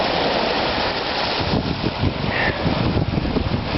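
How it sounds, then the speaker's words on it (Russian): Strong wind gusts over the Biya river at Biysk in spring, with waves running against the current, giving a broad continuous rushing and roaring under microphone buffeting, with no voices. "ветер поднялся в реке, волны против течения идут"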